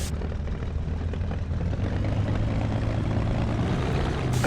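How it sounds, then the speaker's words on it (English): A Bf109 K-4 propeller fighter taxiing in the DCS flight simulator: a continuous, close, throaty engine drone that swells slightly as throttle is eased forward. "Gently move the throttle handle forward until the aircraft starts moving."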